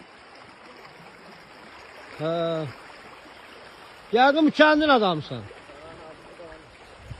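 Water bubbles and flows steadily at a spring, a constant wash heard under people talking.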